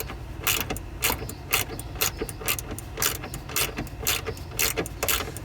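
Regular ratcheting clicks from a hand tool loosening a fastener on a 2018 Dodge Charger widebody SXT, roughly two bursts per second, close and steady with no talk.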